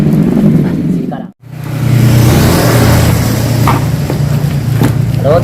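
A Yamaha RX-King motorcycle with a reworked exhaust revs loudly up close, cutting out briefly for a moment before settling back into a steady, throaty drone.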